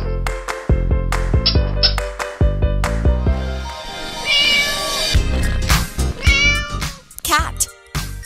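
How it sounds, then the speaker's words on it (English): A cat meows several times, clear and close, over a lively children's farm song with music playing throughout. "Cat."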